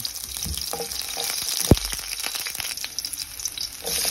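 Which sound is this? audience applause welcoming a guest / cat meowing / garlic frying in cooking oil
garlic frying in cooking oil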